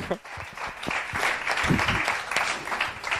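A room full of people at a children's reading competition final claps steadily and moderately loud, with scattered voices mixed into the applause.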